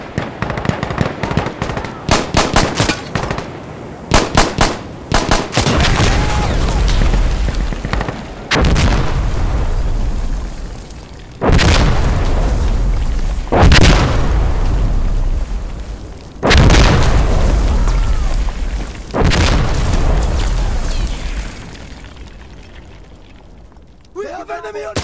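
In the Insurgency Sandstorm shooter game, a burst of rapid gunfire gives way to about five heavy flash grenade and bottle bomb blasts, each a loud close boom with a long rumbling decay, spaced several seconds apart.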